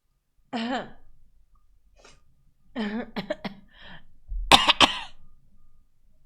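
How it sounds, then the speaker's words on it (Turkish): A person coughs and clears their throat in a short burst of harsh, repeated coughs, with quiet breaths between, recorded up close. "Ay öksürük tuttu."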